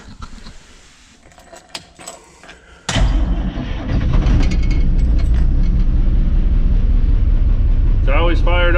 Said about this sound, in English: I'm gonna hit the key here, see if she cranks like she used to